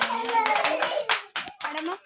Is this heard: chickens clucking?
no